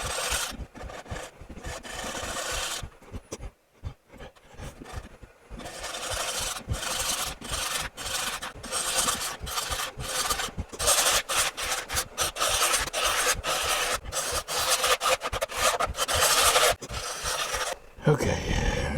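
A carving tool is sharpened with repeated rasping strokes, a rough, rhythmic scraping that runs nearly continuously at close range, broken by a few short pauses.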